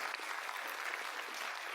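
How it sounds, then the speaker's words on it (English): An audience at a panel discussion event claps for the panelists in a short, dense round of applause. The steady crowd clapping sounds moderately distant, with no speech on top. "Can we get a round of applause for the panelists?"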